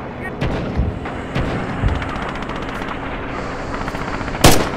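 Artillery shells fall during a World War II-era multiplayer game in a Red October factory map, with repeated booming impacts and bursts of rapid gunfire around them, loud and close, while a player talks over the battle.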